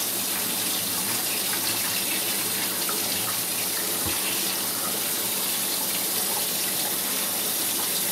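Tap water runs steadily over pumpkin seeds in a sink, a loud and continuous close-up rush of water with no talking.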